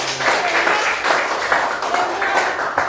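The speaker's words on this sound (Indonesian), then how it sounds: "Berikan tepuk tangan." Classroom applause for a student during a Christian religious education teaching session, moderately loud, uneven clapping that rises and falls in bursts over a few seconds.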